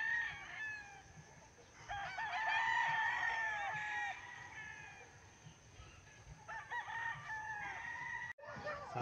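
Roosters crow and hens cluck around breeding coops for female chickens on a farm, several long crowing calls rising loud and near, overlapping with softer clucking throughout.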